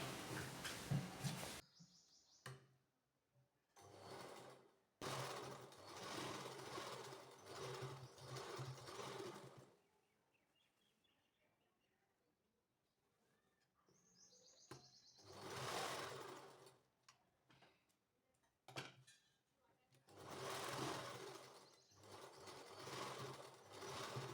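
A sewing machine stitches double lines on a panel kurti in several loud, close runs of steady whirring. Quiet gaps separate the runs, and faint bird chirps carry in the background.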